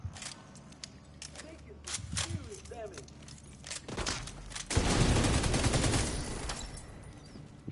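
Gunfire aimed at enemy skills in The Division 2, scattered sharp shots early, then a sustained heavy burst of firing swelling midway, with a voice talking over parts of it.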